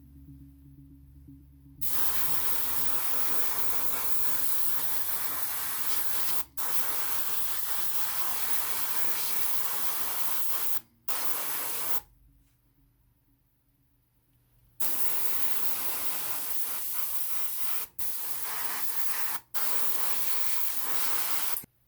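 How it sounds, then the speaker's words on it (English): Airbrush spraying Vallejo Model black base coat onto Star Wars Legion Droideka miniatures, a steady close hiss in several long bursts separated by brief pauses. "I'm now going to do a black base coat, just using Vallejo Modelé Black, using the airbrush."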